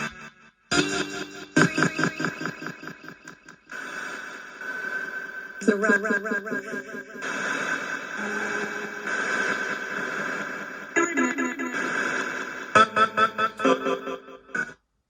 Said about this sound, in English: and now we'll slowly add reverb.